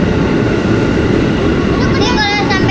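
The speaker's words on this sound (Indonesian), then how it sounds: "Tuh kereta kita datang." A commuter line train pulls into the station with a loud, steady rumble, and brake squeals rise near the end. People's voices are faintly audible beneath it.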